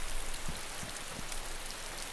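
Steady rain falling in DayZ near Zelenogorsk, a dense even hiss of drops on surfaces with a few soft low thumps, continuous and fairly loud with no voices.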